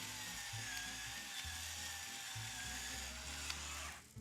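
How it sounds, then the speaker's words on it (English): Black pepper ground fresh in a pepper mill, a close, steady grinding rasp with rhythmic cranking pulses over about four seconds, no talking. "I'm going to grind some fresh ground black pepper."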